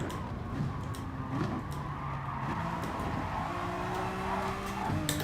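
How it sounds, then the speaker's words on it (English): A Mazda Group 3 race car in Gran Turismo Sport, sliding with its tyres squealing in long, sustained whines over a steady engine drone, several squeals overlapping as it skids through corners. "Come on, stop skidding everywhere"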